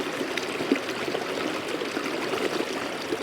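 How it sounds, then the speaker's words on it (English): A CNOC water bag is filled outdoors during a backpacking trip, giving a continuous close trickle and gurgle of flowing water with no voices. "I'm going to get out my CNOC bag, and I'm going to fill it with water."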